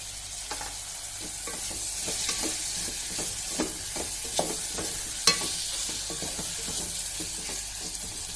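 Tomatoes frying in a pan for veg pulao, with a continuous bright sizzle broken by repeated scraping stirs of a spoon at an uneven rhythm, close and fairly loud.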